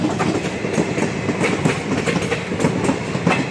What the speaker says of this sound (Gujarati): ગાડી આવી રહી છે